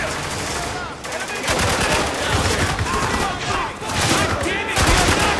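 Sustained bursts of automatic gunfire fill a combat scene in the Xbox 360 shooter Spec Ops: The Line, loud and dense with rapid repeated shots in waves, with shouted voices mixed in.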